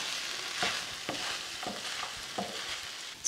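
Tamarind rice being mixed in a pan, with a steady soft sizzle and a series of spatula scrapes and clinks roughly every half second, close and moderately loud, with no talking.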